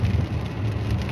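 Rain falls outdoors during an all-day downpour, a dense, steady wash of low rumbling patter and hiss, fairly loud and unbroken, with no voices.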